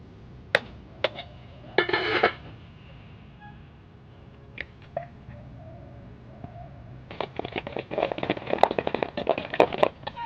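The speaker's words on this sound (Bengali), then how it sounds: "ডিমটা আমি একটু খুন্তি দিয়ে ঘুটে নিচ্ছি।" An egg is cracked and then beaten with a spatula. A few sharp clicks and a short crack are followed by brisk, rapid scraping and clattering against the container, close and fairly quiet.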